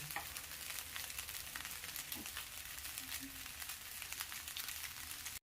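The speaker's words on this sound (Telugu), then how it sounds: "దాంట్లోకి కొద్దిగా సోయా సాసు వేసుకోవాలి వేసుకొని ఫ్రై చేసుకోవాలి" Vegetable fried rice with a splash of soy sauce frying in a pan gives a steady, close, crackling sizzle that runs unbroken for several seconds with no talking.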